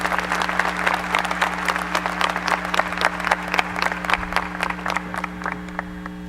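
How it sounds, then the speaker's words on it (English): An audience at a 2019 Valley View High School graduation ceremony applauds in sustained, dense clapping throughout, with a steady low hum underneath. "Thank you for the applause for them."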